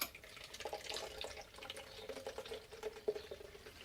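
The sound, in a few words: wort running from the mash tun into a jug while brewing stout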